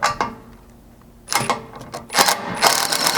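Mounting hardware on a Toyota Tundra rear bumper being tightened with a power tool, three short mechanical ratcheting bursts separated by pauses, close and fairly loud with no talking.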